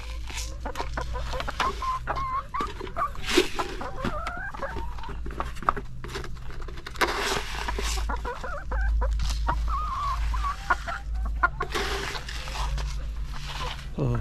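Chickens cluck and chatter close by while being fed, with repeated clucks and squawks and a steady low hum underneath; a person talks to them over the flock.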